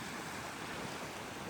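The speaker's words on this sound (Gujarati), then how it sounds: "જુઓ ગાઈસ આટલા બધા મોજા છે." Sea waves churn and wash continuously under strong wind during rain off the Gujarat coast, a dense, even roar with wind buffeting the microphone and no voices.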